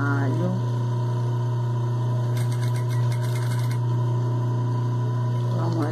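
Sewing machine stitching fabric and backstitching at the end of a seam, a loud steady motor hum with a rapid needle rattle surging in the middle, running continuously up close.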